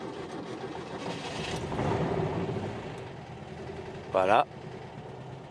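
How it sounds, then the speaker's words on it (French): A 1966 VW 1500 Type III engine cranking and then running at a steady idle, a low even mechanical hum close by, with someone talking over it and a brief loud squeal near the end. "Et vous voyez que le moteur tourne parfaitement"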